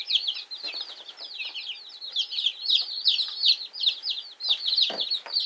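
Fifteen buff Orpington chicks in a home brooder give a steady, dense stream of high peeping and chirping, many small voices overlapping continuously and close by, with an occasional deeper cluck.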